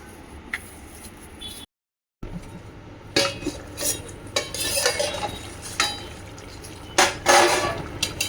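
Green chilli, chaat masala and black salt are mixed by hand in a kitchen bowl, with close clinks and scrapes of a utensil against the dish in irregular bursts, including one brief silent gap.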